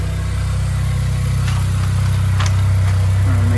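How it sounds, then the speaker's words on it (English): A Honda Civic 1.5T fitted with a new Magnaflow exhaust and Rev9 intercooler idles close by on its first startup, a steady low rumble with faint clicks on top. "it's pretty much the first startup right now"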